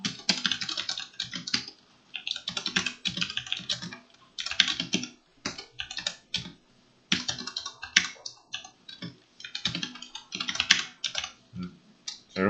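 Fast, steady typing of SQL inner join code on a computer keyboard, close and crisp, in bursts separated by short pauses, with no talking.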